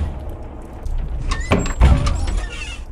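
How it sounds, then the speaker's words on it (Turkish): A stuck door being forced open in a horror video game, a few scraping thuds and rattles that build to a heavy knock, with a faint hum in the background. "Kapı kapı zaten sıkışmış. Bu nasıl bir kapıdır? Tam açılmıyor."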